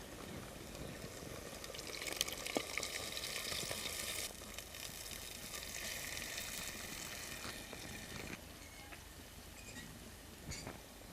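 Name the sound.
soli vegetable added to cooked masala, frying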